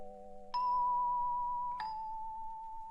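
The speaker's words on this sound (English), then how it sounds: "If you don't know what a Celeste is, it's kind of like a bell piano sound." Two bell-like celeste notes, one after the other, each with a bright struck attack and a long, clear ringing sustain. They are soft and sound alone, with no voices.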